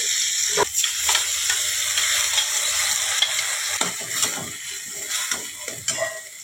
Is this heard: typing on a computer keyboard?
no